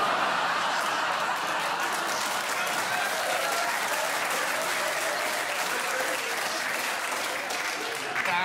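Theatre audience at a comedy stage play breaks into loud, continuous applause, a thick unbroken roar of clapping from a full house, with faint laughter mixed in.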